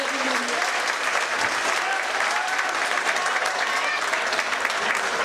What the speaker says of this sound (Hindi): दोनों हाथ ऊपर उठाकर तालियां बजाकर